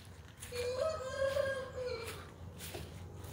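A single rooster crows once in a long, drawn-out call at moderate distance, with quiet outdoor background around it, on a rural smallholding in the late afternoon.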